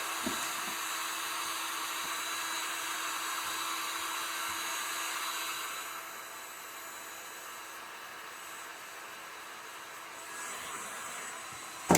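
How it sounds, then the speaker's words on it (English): A heat gun running at its highest heat setting while heating wood for etching, a steady close whooshing hum that drops slightly in level halfway through, with no talk. "So you're gonna take your heat gun and put it on to the highest heat."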